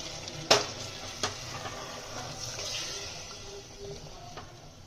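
Water poured into a pan of jackfruit biryani masala bursts into a sharp crackle, then settles into a soft, steady sizzle with a few light clinks.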